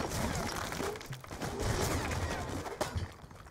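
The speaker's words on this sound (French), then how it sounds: "Sors pas, ça tire." Rapid, sustained gunfire in a Black Ops II multiplayer match, dense bursts of shots continuing throughout at steady loudness, with a player's voice talking over it.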